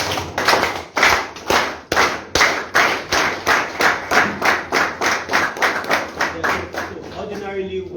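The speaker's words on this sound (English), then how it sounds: "with another JCI clap, can we please appreciate our trainer?" Audience at a JCI business meeting performing a JCI clap: a loud, sharp, rhythmic series of about fifteen unison claps in a steady beat, near and strong, ending as a voice starts at the close.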